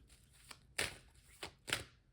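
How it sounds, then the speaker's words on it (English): Tarot cards shuffled in a few quick riffling bursts, close and crisp, with short quiet gaps between them. "Just putting these cards back to shuffle a bit."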